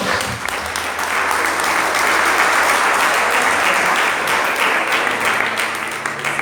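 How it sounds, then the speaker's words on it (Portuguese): A church congregation at a Pentecostal sermon breaks into sustained applause, loud and steady, with many hands clapping together for several seconds. "Será que você pode aplaudir ao Senhor?"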